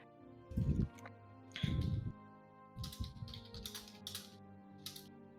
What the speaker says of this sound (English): I hear typing, furious typing